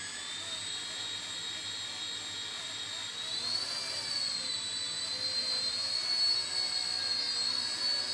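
A home-built Black Hornet micro UAV drone with a lightened battery hatch flies at about half throttle, giving a steady high-pitched motor whine that rises slightly in pitch partway through and holds continuously near the listener.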